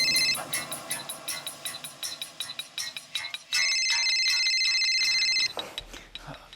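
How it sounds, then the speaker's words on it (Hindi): A mobile phone rings with a repeating electronic ringtone, a rapid series of bright pulses followed by a sustained tone that cuts off abruptly. "रिंग जा रही है"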